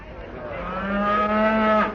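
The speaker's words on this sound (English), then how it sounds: "would you mind keeping that cow quiet?" A single drawn-out cow moo used as a sound effect in a 1958 radio comedy show, loud and close, rising then ending with a brief downward bend.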